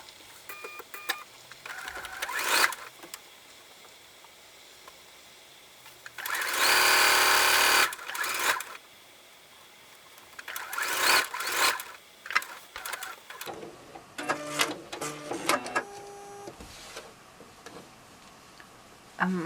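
A sewing machine stitches a quilt block seam in several separate bursts, a loud continuous run in the middle with shorter runs and tapping handling noises between them, close and without talk.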